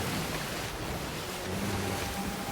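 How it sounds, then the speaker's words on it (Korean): Rough ocean waves surging in the pirate game Sea of Thieves, a steady broadband wash of surf and wind that stays loud and continuous without pause. "파, 파도가 너무 쳐서 수영해서 못 오겠네"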